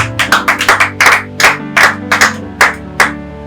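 Church congregation clapping in praise of Jesus: a series of sharp, roughly rhythmic handclap bursts, about a dozen over a few seconds, loud and close, with a sustained tonal backdrop under the claps.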